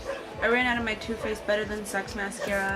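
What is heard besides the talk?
dog barking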